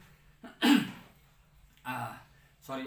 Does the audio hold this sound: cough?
yes